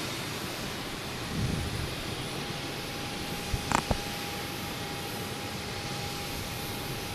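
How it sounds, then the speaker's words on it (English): A Delta Embraer E175 jet on arrival at Boston Logan Airport, heard from outdoors as a steady, broad roar at moderate distance, with a few brief clicks and bumps near the microphone. "Next to arrive is Delta, coming in from DC in E175."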